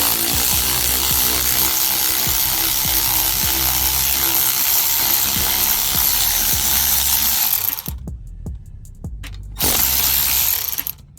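A power tool tightens an engine mount bolt on a Smart Fortwo, giving a loud, steady, close whir with rapid rattling hammer-like pulses. It cuts out briefly near the end, bursts on again for a moment, then stops.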